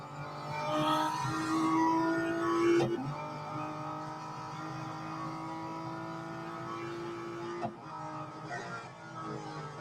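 Racing car engine held at full throttle in the Real Racing 3 video game, a loud steady high-pitched drone with brief gear-change dips, heard alone without talk.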